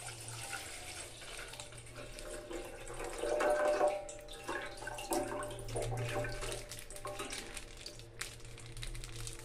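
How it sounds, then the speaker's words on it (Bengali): Packet milk pours into a cooking pot for sabudana payesh, a steady liquid splash and trickle that swells midway and runs on for several seconds, close by with no talking. "এবার দুধটা দিয়ে দেব।"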